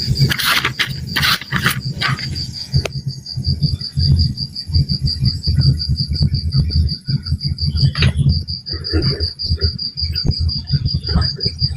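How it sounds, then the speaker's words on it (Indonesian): Crickets chirp in steady rapid pulses, a close, continuous trill running throughout, with a voice talking over them at intervals. "Jangkrik, itu jangkrik."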